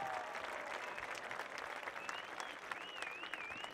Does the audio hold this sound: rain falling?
no